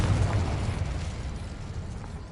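Confringo explosion spell in Hogwarts Legacy, a broad rumbling blast that swells and slowly decays over a couple of seconds, loud and alone without speech.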